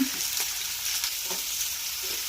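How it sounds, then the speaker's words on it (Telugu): Cumin, garlic and tamarind frying in oil in a pan, giving a steady close sizzle with faint stirring scrapes and no voices. "ప్యాన్ పెట్టుకొని కొంచెం ఆయిల్ పోసుకుని జీలకర్ర కొంచెం వేసుకుని వేసుకుని ఎల్లిపాయలు చింతపండు వేసుకుని"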